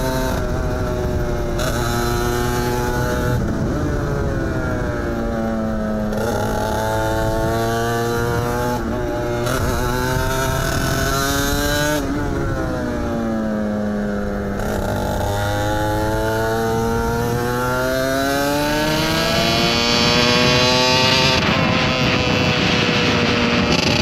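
An Aprilia RS 125 racing motorcycle engine revs up and down repeatedly, its pitch climbing and falling in long sweeps, loud and close with no one speaking.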